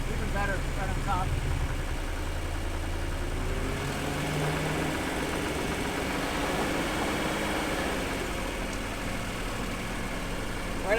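An engine idles and is revved, steady and close, from a car at the NSXPO gathering, with a metallic noise coming from the manifold. People talk over the engine rumble.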